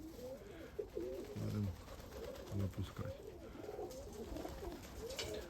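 Budapest and Mykolaiv pigeons coo in low, soft, repeated phrases close by, with a voice talking quietly over them.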